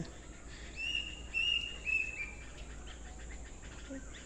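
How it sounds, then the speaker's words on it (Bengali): Birds calling around a farm with cattle and goats, a few thin high chirps and whistles repeating near the start and fading, set against a steady low background hum. "খালি পাখি খালি পাখি যে পাখি কত পাখি কত পাখি ওই যে পাখি কত পাখি শব্দ"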